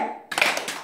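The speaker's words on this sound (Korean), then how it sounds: "다른 숫자 얘기할 때 박수 치세요" Hand claps in a 369 number-counting brain exercise game, a few sharp claps following a voice, fairly close and moderately loud.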